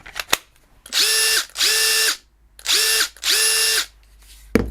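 Four sustained bursts of a Makita cordless drill on an 18-volt battery driving screws, spinning up and stopping, loud and close, with a sharp click before and after.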